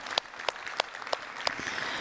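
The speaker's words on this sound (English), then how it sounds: "I ask you for an applause to our distinguished and great panel." Audience applause closing a conference panel session, a thin scattering of separate handclaps at a moderate pace over room ambience.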